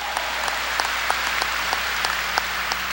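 A church congregation claps during a 1992 Sunday worship sermon, a steady wash of many hands clapping with a regular rhythmic beat underneath.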